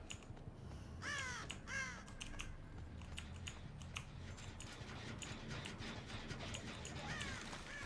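Crows caw in a video game, Dead by Daylight, with two clear raspy calls close together early on and a fainter one near the end. The calls sit over a low, busy game soundscape with scattered clicks.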